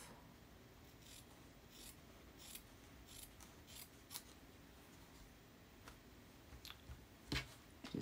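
Scissors snip through cloth in a quiet sewing session, a series of short, crisp cuts spaced irregularly over several seconds, close and fairly soft, with no talking.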